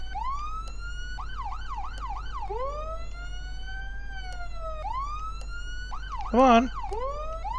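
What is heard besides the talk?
police siren in video game Flashing Lights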